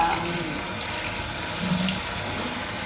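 Tap water runs in a steady, loud stream into a kitchen sink as fruit is washed for a fruit salad, a continuous close wash of sound with no speech.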